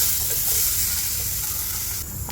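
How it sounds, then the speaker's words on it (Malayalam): Curry leaves and small onions frying in a pan, a loud, close, continuous sizzle and hiss that eases slightly near the end. "ഇനി ഇതിലേക്ക് ഒരു തണ്ട് കറിവേപ്പിലയും 2 ചെറിയ ഉള്ളിയും കൂടി ഇട്ട് കൊടുത്തിട്ട് ഇതും കൂടി ഒന്ന് വറുത്തെടുക്കണം."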